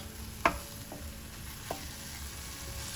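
Shakshuka with chopped coriander simmers in a pan, giving a soft continuous sizzle with a few faint clicks and taps of a utensil, quiet and close.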